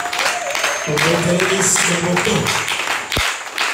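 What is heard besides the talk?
congregation applauding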